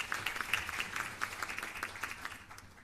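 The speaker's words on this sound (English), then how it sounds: "I want to give the government and people of Jamaica a special round of applause this morning." An audience applauds at a regional launch event in Jamaica, a steady wash of many hands clapping at moderate distance, fairly faint and continuous with no voices over it.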